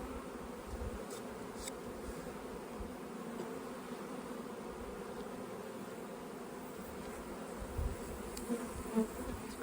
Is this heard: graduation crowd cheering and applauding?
no